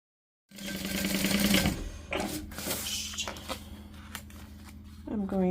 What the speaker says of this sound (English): I'm going to sew at a 1/4 seam allowance all the way around this